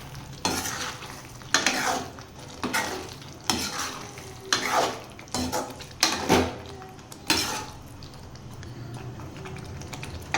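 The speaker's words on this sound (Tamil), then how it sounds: "இப்போ பன்னீர் சேர்த்துக்கலாம். லைட்டாக பரட்டி விட்டுக்கோங்க." Paneer cubes are stirred through a simmering Chettinad gravy in a pan, with about eight distinct scraping spoon strokes over a low, steady sizzle and no talking.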